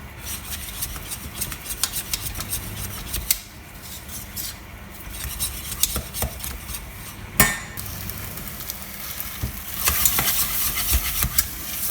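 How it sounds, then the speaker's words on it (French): A spoon scrapes and stirs thick choux dough drying in a saucepan over heat, with a faint sizzle underneath, steady and close, with occasional knocks against the pan. "on va la faire dessécher un petit peu sur notre feu"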